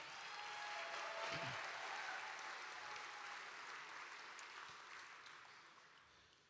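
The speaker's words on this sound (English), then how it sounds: "Give them a round of applause, please." Sustained crowd applause at a campaign rally in Las Vegas, a dense wash of clapping that swells early then slowly tapers off, with no talking over it.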